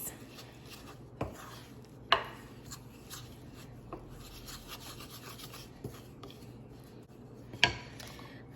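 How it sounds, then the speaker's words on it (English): Dry keto pizza dough ingredients, including pink Himalayan salt and baking powder, are stirred in a bowl, producing close, quiet scraping and rubbing with a few sharper clinks of the utensil against the bowl, without talking. "And I'm gonna give it a mix."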